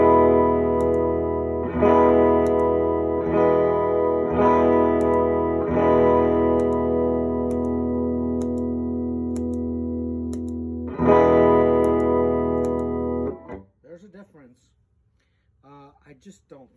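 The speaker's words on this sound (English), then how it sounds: "I'm playing through a Princeton, which is a pretty bright amp, and I've got the treble at like 8 and the bass at like 4." Electric guitar through a bright Fender Princeton amp with treble high, bass low and reverb, ringing out sustained strummed chords that restrike every couple of seconds, loud and close, then cutting off into a brief tail and quiet.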